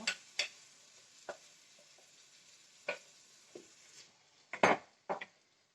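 Chicken going into a paella pan, then being stirred with a utensil: a series of separate scrapes and clatters against the metal pan with quiet gaps between them, ending in a louder cluster of knocks, no talking.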